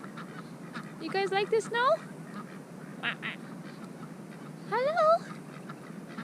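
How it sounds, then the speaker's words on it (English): Ducks quack in a snowy yard in a few short, nasal bursts close by, while a person talks to them in a friendly voice between and over the calls. "There's our duckies. Hi duckies!"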